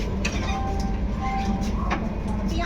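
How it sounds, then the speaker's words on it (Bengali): Shalimar–Puri Sri Jagannath Express standing at Kharagpur Junction station: a steady, loud rumble of train and platform noise with a few faint clicks and ticks, continuous throughout. "আর এখন আমাদের ট্রেন এসে পৌঁছালো খড়গপুর স্টেশনে, খড়গপুর জাংশন স্টেশনে।"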